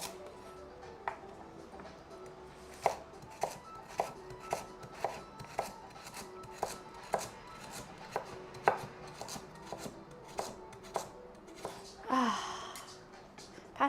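Vegetables being chopped on a board while prepping a beef ragu, a steady series of crisp knife taps roughly every half second, close and clear, ending in a brief rustle of handling.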